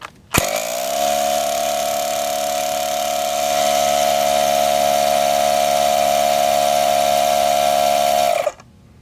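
A small pneumatic air tool fed at 15 psi starts abruptly, runs as a loud steady whine with a strong constant pitch for about eight seconds, then cuts off.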